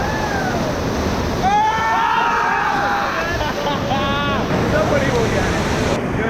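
A Flow Rider artificial surf wave at the Waterbomb Bali water park rushes in a constant, loud wash of water, joined by scattered high voices and wind buffeting the microphone.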